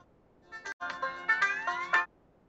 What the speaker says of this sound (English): That was my ringtone.